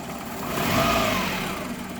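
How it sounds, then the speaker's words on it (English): Car engine revving as the gas pedal is pushed, with an EGR flow fault, a steady mid-pitched rumble rising to a peak then easing back toward idle, close and continuous. "When you start the engine, and just push the gas a little bit here"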